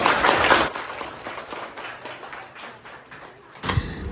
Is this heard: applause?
yes